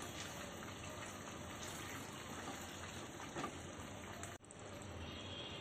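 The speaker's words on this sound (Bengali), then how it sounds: "অ্যাড করছি জল।" Water pouring into a cooking pan of katla fish rezala, a soft steady gushing pour with a brief clunk near the end, quiet and close, no talk.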